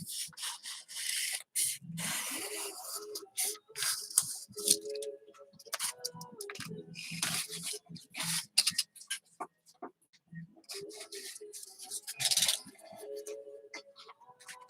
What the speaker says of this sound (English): I'll probably hit it with the sander here in a second, or not, just a piece of sandpaper.